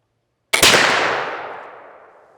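One close, loud shot from a Kibler Southern Mountain flintlock rifle loaded with Schuetzen 3F black powder and a patched round ball, a sharp crack followed by a long decaying roll through the woods.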